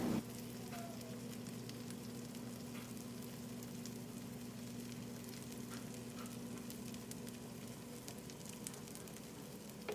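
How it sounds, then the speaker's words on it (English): Blueberry pancakes cooking in a covered pan give off a steady, soft sizzle that stays even and fairly quiet throughout, with no talking. "my best tip for making fluffy pancakes is covering the pan while you're cooking them"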